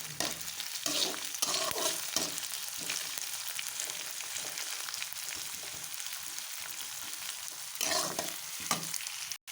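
Onions fry in a pan with green chillies, a steady broadband sizzle under repeated scraping stir strokes that come in bursts near the start and again toward the end, close and fairly loud, with no talking.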